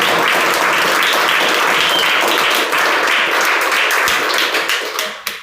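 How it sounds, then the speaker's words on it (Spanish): A church congregation applauds loudly, dense sustained clapping that fills the room for several seconds before tapering off at the end. "Un aplauso al Señor."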